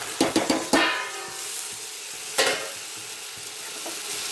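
Dry fish curry with cucumber and tomato gets stirred in a pan, sharp scraping strokes at the start and again midway over a low, continuous sizzle.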